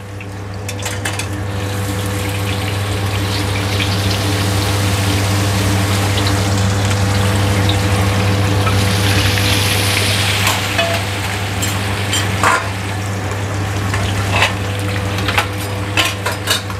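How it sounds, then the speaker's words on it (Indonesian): Karaage chicken deep-frying in hot oil gives a steady loud sizzle and bubbling hiss, with a constant low machine hum and occasional clinks of utensils near the end. "Di sini gua mau ngegoreng si karagenya."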